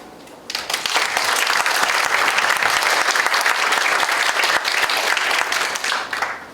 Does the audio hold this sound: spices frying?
no